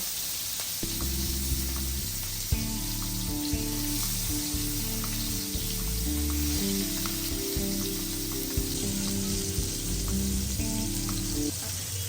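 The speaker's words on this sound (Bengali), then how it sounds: "এরপরে আমরা মাছগুলোকে খুব সাবধানে তেলের উপরে আস্তে আস্তে ছেড়ে দিব" Rohu fish pieces sizzle in hot oil in a pan, a steady crackling fry throughout with soft background music playing underneath.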